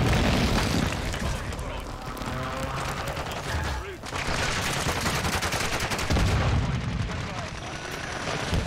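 Dense, continuous battle noise from Call of Duty: Modern Warfare 6v6 multiplayer: booming explosions and rattling gunfire layered together, loud throughout with a brief dip midway.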